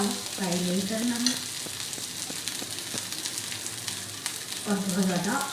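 A dhaba-style burger kebab fries in a little oil in a pan over moderate flame, giving a steady close sizzle throughout, with a couple of brief voiced passages breaking in over the hiss.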